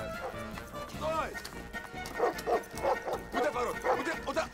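Dogs bark and yelp amid a tense chase scene in a Russian crime comedy series, with shouting voices overlapping, clip-clop-like thuds and barks recurring in quick bursts close by.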